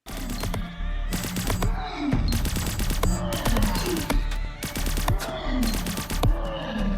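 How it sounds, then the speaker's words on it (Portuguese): Rapid bursts of multishot gunfire from the video game Greedland, loud and close, firing in repeated volleys of sharp shots with brief pauses between them, with game effects sweeping underneath and no talking. "peguei o primeiro multishot aqui, vai dar um tiro ou uma bala a mais"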